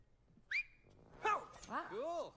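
Whistling in the video game It Takes Two: a short high whistle note, then a burst of tones followed by swooping, rising and falling game sounds, faint and clean, with brief talk nearby.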